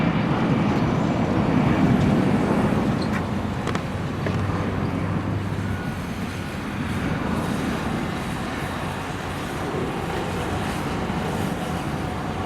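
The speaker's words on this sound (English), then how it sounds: "There's an airplane." Steady broadband roar of an airplane passing over a construction site for a water recycling facility in Playa del Rey, Los Angeles, mixed with wind buffeting on the microphone and a low engine rumble, continuous and fairly loud with no speech.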